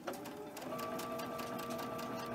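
Sewing machine with a 12-inch needle chain stitching fabric binding, a steady fast mechanical whirr with rapid rhythmic needle ticks, fairly quiet and close, with no voices.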